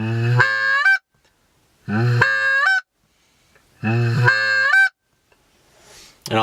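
Three loud goose honks blown on a handheld goose call, each a sharp rising blast cut off hard, evenly spaced with short silences between.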